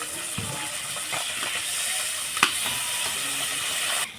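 Tangra fish fry in hot oil, giving a constant close hiss with a few soft scrapes and one sharp clink as the pieces are turned.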